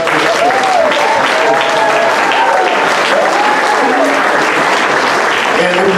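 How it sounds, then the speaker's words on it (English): Audience applause at a gala honoring a guest, a loud continuous roar of clapping that stays level throughout, with music and voices running underneath. "Let's give him a nice round of applause."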